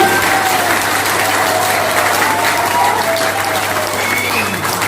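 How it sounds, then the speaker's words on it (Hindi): A large seminar audience in Dehri-on-Sone, Bihar, breaks into loud, steady applause, a thick continuous clatter of many hands lasting about five seconds with no voice over it. "एक बार जोरदार तालियां बजा सकते हैं"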